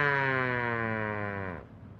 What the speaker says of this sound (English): This is a B&M friction driven siren.